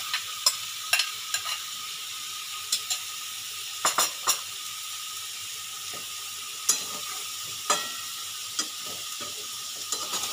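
Fried potato and shrimp being stirred into frying banana flower for a shrimp mocha ghonto, with a soft steady sizzle under scattered sharp spatula clinks against the pan.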